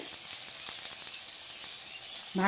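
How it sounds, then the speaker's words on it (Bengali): Malabar spinach seeds frying in a pan give off a soft, continuous sizzling hiss for a couple of seconds, close by and fairly quiet. "দেখো লাল লাল করে ভাজা হয়ে গেছে"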